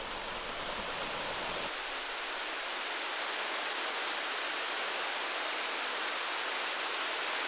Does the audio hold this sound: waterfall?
yes